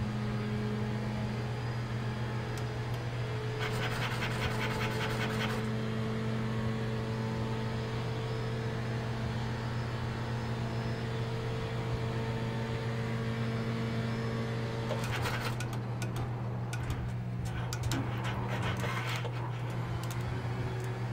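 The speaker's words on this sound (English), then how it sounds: "Actually, what you're hearing right now is the motion platform." A racing simulator motion platform runs with a constant low electric hum and broad whooshing noise, with brief harsher mechanical bursts rising twice above the drone.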